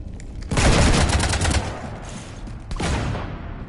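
Gunfire in the Mass Effect video game erupts as a loud, sustained volley, eases off briefly, then returns in a second shorter burst.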